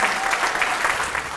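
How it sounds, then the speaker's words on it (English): A crowd at a tule elk celebration event applauds, dense sustained clapping filling the space evenly from start to finish. "please, a round of applause for his work."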